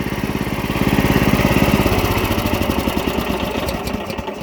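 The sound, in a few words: engine of farm plowing machine idling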